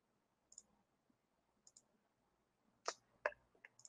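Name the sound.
computer mouse click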